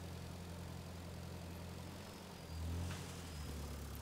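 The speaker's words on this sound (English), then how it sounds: "And machines are very loud, like this tractor." A tractor with a large red front shovel, scooping sand from a hill, runs with a steady low idling drone that swells briefly louder partway through, with no voices over it.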